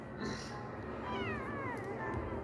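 A kitten meows with a couple of short, rising and falling cries close by, faint and alone over quiet room tone.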